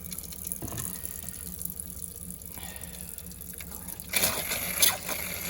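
Cold water runs from a camper tap during winterizing, a steady faint flow that swells louder and splashier toward the end, heard alone without talk.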